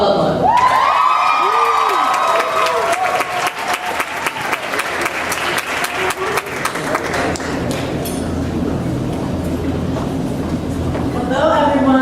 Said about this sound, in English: Can we get another round of applause for that awesome performance, please?